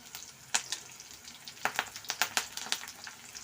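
Small dried chillies and curry leaves fry lightly in oil for a cauliflower fry, giving a quiet close sizzle broken by several sharp crackling pops.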